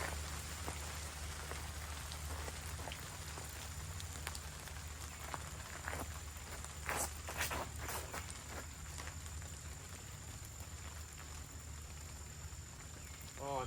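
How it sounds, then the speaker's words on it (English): Steady rain patters across a golf course in a video game, a dense continuous hiss with scattered drop ticks that stays even throughout. "Looks like we got some more rain."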